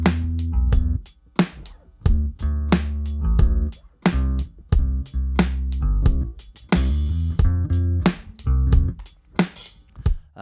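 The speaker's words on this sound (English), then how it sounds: "The bass and drums sound like this." A bass guitar and drum groove for a song plays in a steady, syncopated pattern, with sharp punchy hits landing over deep sustained bass notes.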